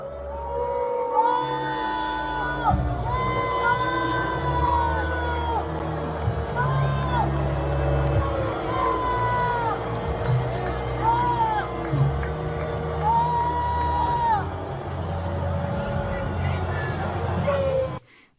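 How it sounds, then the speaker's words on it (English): A large stadium crowd at a World Cup trophy ceremony roars and jeers at Donald Trump. The noise is loud and sustained, with shouts and whistles rising over the din until it cuts off at the end. "Trump was getting mercilessly booed"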